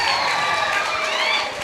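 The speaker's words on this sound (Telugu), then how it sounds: "అందరూ కూడా ఒకసారి సార్కి మంచి క్లాప్స్ కొట్టాలి" A college audience at a Freshers Day celebration applauds loudly and continuously, a dense wash of clapping with some cheering that holds steady and eases slightly near the end.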